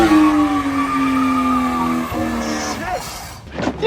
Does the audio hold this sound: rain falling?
no